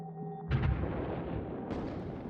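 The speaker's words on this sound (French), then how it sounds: "Les Prussiens continuent de nous envoyer 6000 bombes par jour." Prussian artillery shells exploding during the bombardment of Paris: a heavy, deep boom cuts off a steady tone and rolls into a rumbling decay, followed by a second blast.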